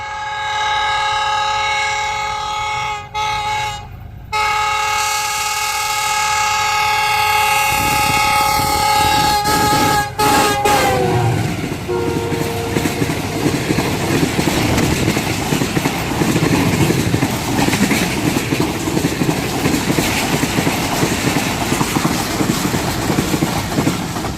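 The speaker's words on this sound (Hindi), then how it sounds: "28 down Shalimar Express with GU 49009 through pass from Dabbawala." The Shalimar Express, a passenger train hauled by locomotive GU 49009, passes through Dabbawala station without stopping. A long, loud horn blast opens, then a heavy rumbling roar and rhythmic wheel clatter continue up close as the coaches rush past.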